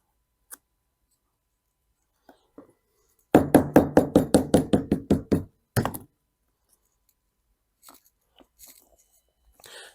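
About a dozen quick, sharp taps knock high-pressure laminate molding onto a beveled countertop edge in an even rhythm, followed by a couple more strikes and scattered faint knocks; close and loud, no talking.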